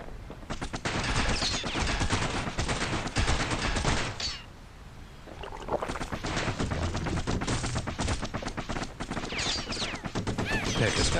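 Rapid gunfire from enemy pincushions in Bastion, coming in dense bursts that break off briefly near the middle and then resume, with a voice speaking over parts of it.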